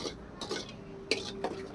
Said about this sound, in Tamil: இதை நல்லா கிளறி விட்டுறலாம்